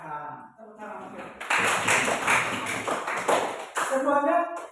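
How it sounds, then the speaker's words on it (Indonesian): Applause from a classroom group, starting after a short pause and continuing in uneven bursts of clapping, fairly close, with a voice speaking before it begins. "Tepuk tangan beliau."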